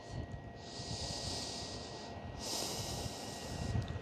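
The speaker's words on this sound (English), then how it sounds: "take a deep breath" A slow, deep breath drawn in and let out during a yin yoga session, two long airy swells of inhale and exhale, close and soft over a low background hum.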